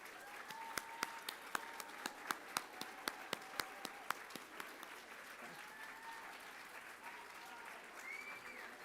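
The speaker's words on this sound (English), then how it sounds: "I wish to invite their representatives to please stand for one more round of applause." A room of people at a community award ceremony in Toronto applauds honorees in a steady, even round of clapping with a few sharper individual claps near the start, heard from within the crowd.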